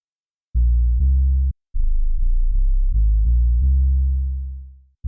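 Deep, booming 808 bass notes from a Harmor synth preset in FL Studio play in a short rhythmic pattern, several punchy hits followed by one long note that slowly fades out.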